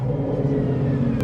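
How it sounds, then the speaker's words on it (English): A Ford Coyote 5.0 V8 fitted with longtube headers and a quiet catback exhaust revs briefly, producing a deep, steady, close rumble with no talk. "Yeah, I'll rev it up a little bit more."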